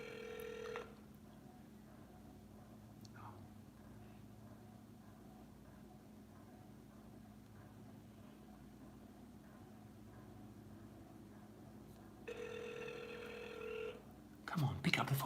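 An outgoing telephone call rings: a tone sounds briefly at the start, a long quiet wait follows, then ringing tones return near the end before a short burst of noise.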